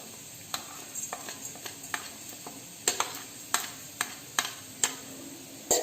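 Cumin seeds, coriander seeds and peppercorns dry roasting in a pan, giving a soft steady crackle broken by a series of sharp clicks and taps as spices are stirred and scraped, louder toward the end.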